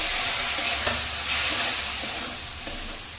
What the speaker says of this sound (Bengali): মশলাটাকে ভালো করে ভাজতে হবে।